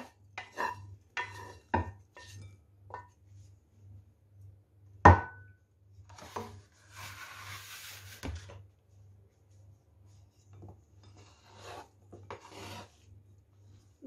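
A knife slicing a long vegetable into pieces for an eggplant and egg salad makes a series of short rasping cuts and taps on a board, irregular and close, over a steady low hum.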